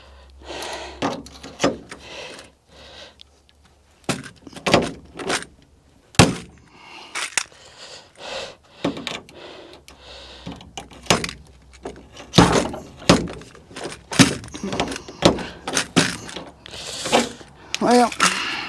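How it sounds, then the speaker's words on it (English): A large pop rivet gun with a 1/4 inch tip installs hood strut brackets on a 1979-98 Mustang, making sharp, irregular snapping clunks and squeezes. Someone talks in between the hits. "Now you're about to see why I have the bigger pop rivet gun."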